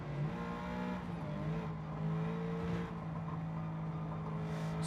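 A high-performance car slips and slides in a racing video game, its engine holding a steady, moderately loud drone with slight pitch shifts as the revs change. No tire squeal stands out clearly.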